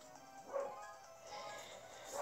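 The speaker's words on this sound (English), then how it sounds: "The dog is going mental" A dog barks and whimpers in short yips through a busy game soundtrack, fairly faint against the music.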